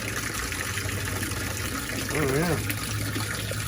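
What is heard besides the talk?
small waterfall in a garden pond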